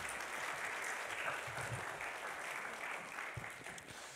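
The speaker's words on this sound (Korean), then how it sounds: "우리 나오실 때 박수로 환영하도록 하겠습니다." A church congregation applauds to welcome a pastor to the pulpit at a Sunday service, a steady wash of many hands clapping at moderate distance for a few seconds.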